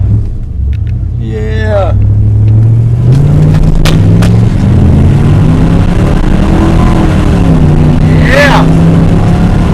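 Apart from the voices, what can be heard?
car doing a burnout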